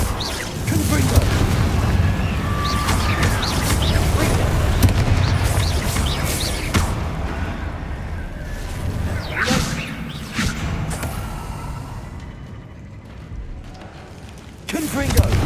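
Confringo blasting spells in a wizard video game: repeated booming explosions with whooshing bursts and debris crackle, loud and dense throughout, with a voice shouting over the blasts.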